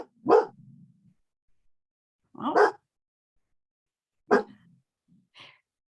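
Three short, sharp dog barks spaced a couple of seconds apart, fairly close and alone, with a faint trailing yip at the end and only a brief spoken exclamation between them.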